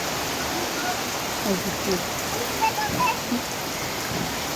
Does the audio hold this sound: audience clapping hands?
no